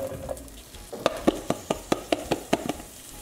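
Summer squash hitting hot olive oil in a pan, sizzling with a run of sharp, evenly spaced clatters and taps as pieces drop and are stirred, close and fairly loud.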